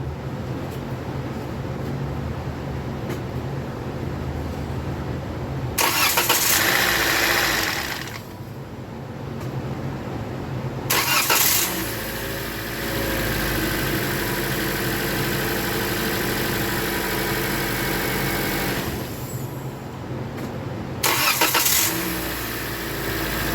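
A 2016 Toyota Corolla engine with no oil in its VVT sprockets cranks and starts after a timing chain job, then idles with a steady hum, with several short bursts of cranking or revving along the way.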